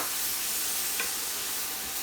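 Thawed frozen spinach hitting a hot pan with bacon, water deglazing in a steady, close hiss and sizzle with a faint stir partway through.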